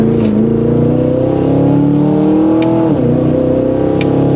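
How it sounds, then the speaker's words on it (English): Cadillac Escalade V SUV engine revving hard in sport mode, a loud, close, rising snarl that breaks with a sharp upshift pop before settling back, no voices. "That upshift pop is like the best thing in the world."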